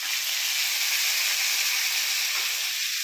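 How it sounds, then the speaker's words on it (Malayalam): Chopped tomatoes hit hot fried onions in a pan for a Kerala tomato chutney, giving a loud, steady sizzling hiss that carries on evenly throughout with no talking. "ഉള്ളി വാടി മൂത്ത് വരുമ്പോഴത്തേക്ക് നമുക്ക് ആ തക്കാളി അരിഞ്ഞത് ഇട്ട് കൊടുക്കാം."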